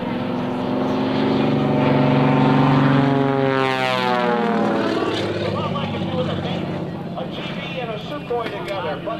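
At an airshow, an aerobatic propeller airplane flies an outside loop, its loud engine drone rising and falling in pitch as it passes close overhead, then fading into the distance.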